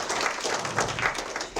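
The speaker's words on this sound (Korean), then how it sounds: "힘찬 박수로 맞이해주십시오" Steady applause from a forum audience, dense clapping sustained throughout at a moderate, even level.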